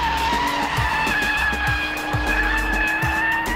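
A BMW 1M pushed at full throttle, its engine screaming loud and close, with repeated tire chirps and squeals as it accelerates hard, no voices heard.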